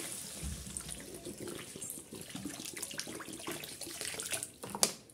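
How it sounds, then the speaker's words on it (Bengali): Water pours steadily into katla fish curry masala in a home kitchen pan, a continuous splashing rush that stays fairly quiet and ends with a brief louder splash. "আমি একটু ঝোল রাখবো যেহেতু জলটা দিয়ে দিচ্ছি পরিমাণ মতো"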